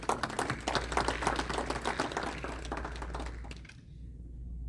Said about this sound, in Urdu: اور ارشد رشید صاحب کے لیے تالیوں کی درخواست.